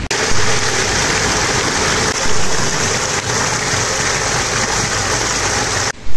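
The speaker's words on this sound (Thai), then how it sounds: "ฝนตกหนักแล้ว" Steady, dense hiss of heavy rain pouring down, constant and loud throughout, with a low rumble underneath, cutting off abruptly at the end.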